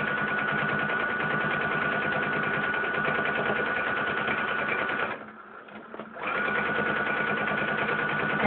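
A sewing machine stitches a machine appliqué of a cartoon squirrel on a quilt, running as a steady, fast, close whir that stops for about a second before resuming at the same pace.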